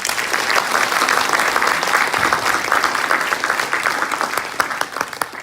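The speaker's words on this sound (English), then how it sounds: "So can we give a big round of applause for Long Wen and Kimmy" A large audience applauds Long Wen and Kimmy Young at a community scholarship foundation event, with dense, sustained clapping filling the whole stretch at a steady, loud level.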